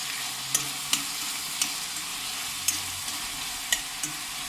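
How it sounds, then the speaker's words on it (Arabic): Onions sizzle steadily in a frying pan while a utensil stirs them. Sharp scrapes and clinks of the spoon against the pan land every second or so over a constant hiss. "وهنحركه، نضل نحرك فيه لمدة من دقيقتين لثلاثة لغاية انه يدبل شوي"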